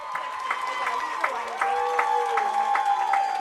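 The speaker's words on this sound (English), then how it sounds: "the crowd is on their feet clapping for Timmy Watson" A high school football crowd at a Thanksgiving game in Wilmington stands and claps for a senior captain, a steady patter of applause with rhythmic clap accents, under an announcer's voice and faint tones.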